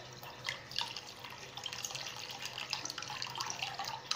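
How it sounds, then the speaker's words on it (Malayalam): Water pours steadily into a cooking pot for boiling rice, a soft continuous splashing and trickling heard close but at low level, with no talking. "ഇപ്പം നമ്മൾ വെള്ളം ഒഴിക്കുകയാണ്."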